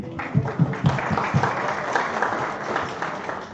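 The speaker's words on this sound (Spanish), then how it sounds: "un aplauso para los que conocen Medellín.js" An audience at a tech meetup for the Medellín.js community claps together, starting with a few sharp claps that quickly swell into dense, steady applause filling the room and tapering slightly at the end, with no speech over it.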